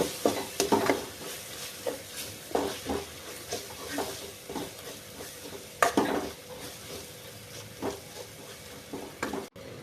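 Coriander powder and sabzi masala are stirred in a hot pan for aloo chana masala: irregular scrapes and clinks of a spoon against metal ring out over a low, steady sizzle, close up with no talking.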